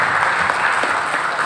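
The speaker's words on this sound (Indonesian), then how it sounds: "Kita tepuk tangan dulu untuk Lapago" Applause for the Lapago group at a cultural day event in Papua, a steady dense clapping from a crowd that fills the whole moment without a break.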